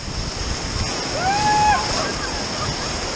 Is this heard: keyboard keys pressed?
no